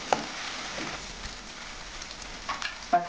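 Onion and capsicum frying over a high flame in a pan give a soft, low sizzle, broken by a few scraping stir strokes and light clinks, with no one talking.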